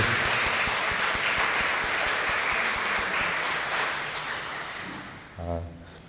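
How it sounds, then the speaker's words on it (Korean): Applause from a church congregation welcoming a visiting pastor and his wife, a dense, steady patter of many hands clapping together that fades slightly toward the end, with a brief low thump near the close. "박수"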